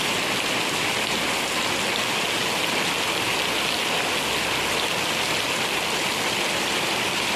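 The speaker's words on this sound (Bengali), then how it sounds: "বৃষ্টি আরও জোর আসবে একটু পরে।" Heavy rain falls in Malaysia as a steady, dense, loud hiss that runs unbroken the whole time, with no voices over it.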